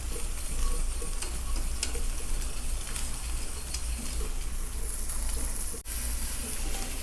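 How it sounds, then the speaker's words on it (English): Whisking milk into a beer cheese sauce for sausage and peppers, a steady scraping, stirring swish with light sizzling, continuous and fairly close for the whole stretch, no talking. "You want to keep whisking this together, otherwise it will clump up on you."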